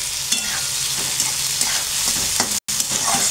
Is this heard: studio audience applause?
no